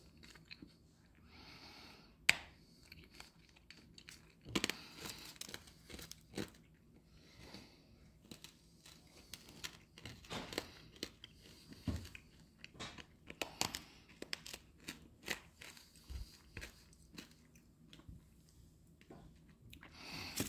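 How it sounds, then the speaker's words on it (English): Hard candies from a WW2 German ration crunch as someone chews, with sharp, irregular cracks over quiet, close-up mouth sounds and occasional breaths. "Sorry if you heard all that loud crunching."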